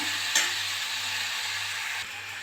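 Onions sauté lightly in an open pressure cooker for an egg curry, producing a steady, soft hiss of frying. A couple of brief clanks of a stirring utensil break in, and nobody talks.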